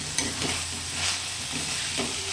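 Spiced beans bhaji being stirred in a hot pan, steady sizzling with repeated scraping strokes of the spoon every half second or so, close up and without voices.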